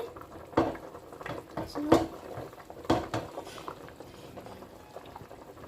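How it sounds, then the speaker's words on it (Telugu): Fish curry simmering in a pot while being gently stirred, with bubbling and occasional scraping knocks of a utensil against the pot, close and moderately quiet. "ఇలా కలుపుకుంటూ ఉండాలి. గట్టితో అసలు తిప్పకూడదండి, మొక్క అనేది స్మాష్ అవుతుంది."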